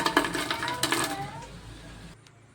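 Crispy fried bitter gourd slices crunching in a series of sharp, close crackling bursts over the first second and a half, fading toward quiet by the end.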